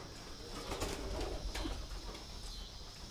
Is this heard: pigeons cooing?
yes